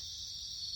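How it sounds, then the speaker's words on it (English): Crickets chirp in Final Fantasy VIII, a steady, faint, high trill that carries on alone without pause. "Crickets."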